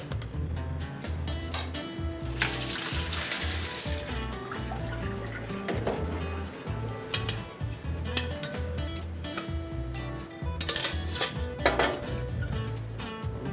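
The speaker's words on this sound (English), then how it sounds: "just gonna strain this off." Boiled food being strained from a pot in a home kitchen, with clattering metal and clinks of pot and utensils plus splashing water, busy and close throughout with no talking.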